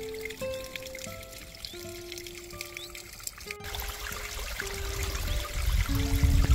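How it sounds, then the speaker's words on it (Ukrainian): Spring water trickles past a trough and runs off as a small stream toward an old riverbed, a soft continuous dribble with scattered droplet sounds that grows fuller and louder over the last few seconds. "Тепер, ніби розсипаний бісер, вода стікає мимо корита і струмочком спішить до давнього русла річки Джури."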